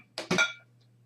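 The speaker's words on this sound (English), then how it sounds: "I need a glass." A drinking glass is set down on a hard surface indoors, giving a quick double knock and a short bright ring that fades within a second.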